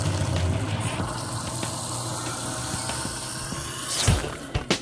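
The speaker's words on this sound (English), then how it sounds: "run a little hot water, and that will actually stop the freeze of the water, and everything will go down the drain" Hot water runs steadily down a kitchen garbage disposer drain, a continuous close rushing and gurgling flow, with a few louder sloshing bursts near the end.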